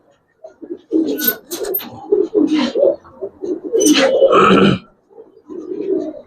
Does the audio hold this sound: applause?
no